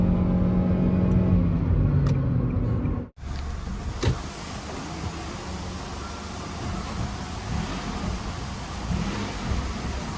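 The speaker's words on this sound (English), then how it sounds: "when I accelerate, this whole car just starts shaking." 2013 Nissan Murano accelerating with a shaking fault, heard from inside the cabin as a steady engine and road roar with a brief sharp break and a few knocks, no talk.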